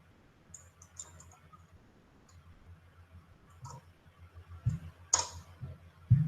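Typing on a computer keyboard during a live stream: scattered, sparse soft clicks and taps, quiet and close, growing a little louder and busier toward the end.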